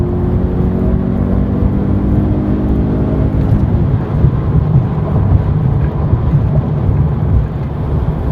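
A Genesis G70 2.0T in sport mode accelerates hard, heard from inside the cabin as a rising engine tone that swells into a loud, dense roar of engine and road noise, with no speech.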